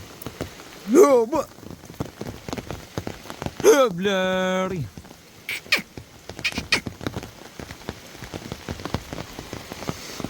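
Heavy rain patters densely on a surface near farm fields. Two loud, drawn-out calls rise briefly above the steady wash of drops.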